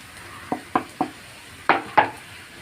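A spoon or spatula clacks against a pan five times as chapati strips are dropped in and stirred to make noodles, each knock short and distinct over a quiet background.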